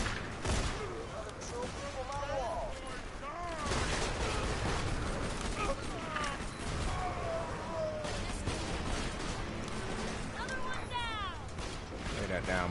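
Rapid gunfire from Borderlands 2 on PS4, sharp cracking shots popping like firecrackers amid busy game effects, with excited talk over much of it.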